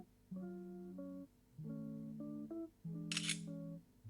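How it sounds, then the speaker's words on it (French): A Huawei Mate 80 Pro Max smartphone camera shutter fires once, a short crisp click heard over a background of steady electronic tones, with no talking. "je reste stable et je vous prends la photo"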